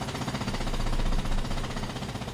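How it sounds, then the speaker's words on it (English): A jackhammer rattles continuously in a video game, a loud dense pounding that fills the whole stretch without pause and without talking. "Who's got the freaking jackhammer?"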